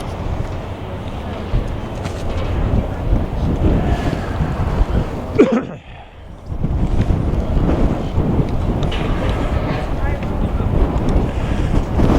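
Heavy, steady wind buffeting from riding a motorcycle through the Pahrump desert, loud and broadband, with a brief dip in the rush midway.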